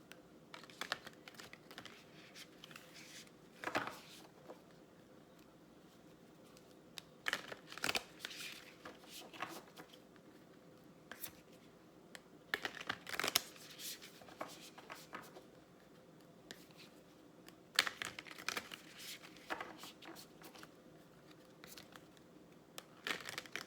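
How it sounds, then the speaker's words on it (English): Quiet card shuffling comes in several short bursts of riffling and tapping, spaced a few seconds apart, with no talking. "let me grab these cards, and I'll do a real quick shuffle"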